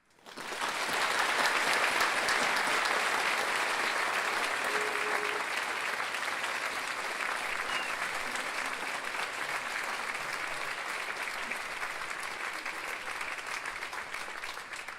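An evening lecture audience at a Science and Food event claps to welcome a panel, a dense, steady round of applause that swells quickly and holds for the whole stretch, fading slightly toward the end.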